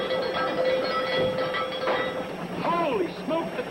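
A train running on rails gives a steady rumble and rattle, with a sustained tone and a few squealing sweeps near the end, as voices talk over it in a 1960s sitcom scene.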